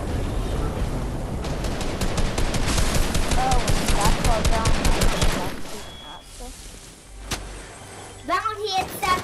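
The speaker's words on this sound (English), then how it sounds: "Somebody's shooting." Rapid bursts of Fortnite gunfire, loud and near in the first six seconds, then thinning to scattered shots. Game sound effects and a voice come through beneath and after the firing.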